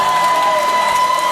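Stadium crowd cheering at a high school football game at Atrium Stadium, a brief loud roar of applause and whoops with a sustained tone running through it.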